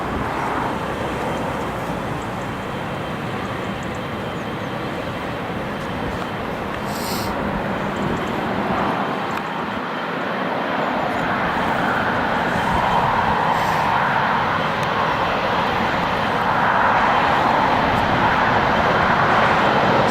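An Italian Air Force C-27J aircraft lands at Newcastle International Airport, its engines giving a steady, broad roar that holds throughout and grows slightly louder toward the end, with no talk over it.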